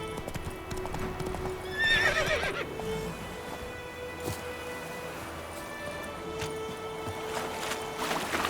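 Hooves of the horse Roach clip-clop steadily in The Witcher 3, a loud rhythmic gait with a brief whinny near the start, over faint ambient game sound and a steady low drone.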